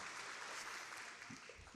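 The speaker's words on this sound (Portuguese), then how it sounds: "Dá uma salva de palmas para Jesus" Church congregation clapping for Jesus, a broad steady wash of applause that carries on throughout, fairly faint and distant.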